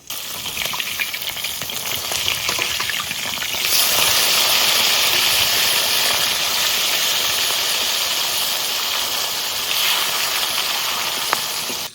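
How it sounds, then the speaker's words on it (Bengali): Fish frying in oil in a hot wok, one side already browned before turning: a steady, loud sizzle with crackling hiss that swells and holds dense for the full length, alone without talk. "মাছ এক পিঠ ভাজা হয়ে গেছে, এবার উল্টিয়ে নেবো"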